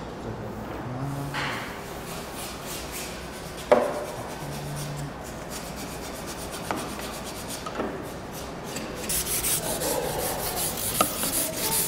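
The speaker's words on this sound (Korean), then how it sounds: "사실 사포질을 처음 하면 어렵죠" Sandpaper rubs over wood by hand in an woodworking craft class, giving a steady, close rasping scrape with a few sharp knocks and a rougher burst near the end, no talk.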